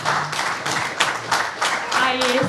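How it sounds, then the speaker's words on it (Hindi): An audience applauds a visiting Pakistani cricketer at a public event, with steady clapping in rhythmic surges that continues for the whole stretch, while a voice talks faintly underneath. "जोरदार तालियां आप सब लोगों की सकलेन भाई के लिए।"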